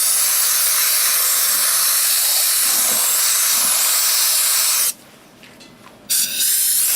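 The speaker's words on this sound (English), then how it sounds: "maybe what I'll do is run a bit of compressed air through it" Compressed air blasts through a 110s manifold heater as a steady, loud broadband hiss that runs alone for about five seconds, cuts out briefly, then resumes.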